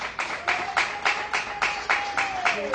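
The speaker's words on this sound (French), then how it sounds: "Sous les applaudissements du public" An audience claps in slow, regular beats at a civil wedding, about eight or nine separate strokes in unison, with a faint tone held behind them.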